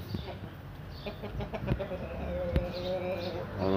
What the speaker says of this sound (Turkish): hindilerimizi, tavuklarımızı birlikte saldık